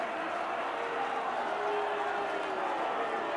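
A rugby crowd at an Ulster versus Cardiff Blues match roars in a steady, distant wash of cheering and applause, with no clear breaks.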